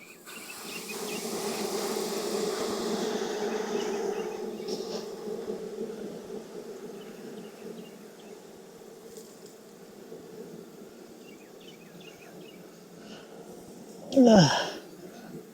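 Honeybees buzz around a thriving beehive in Texas, a soft continuous hum from many insects with one bee zipping loudly past close by near the end.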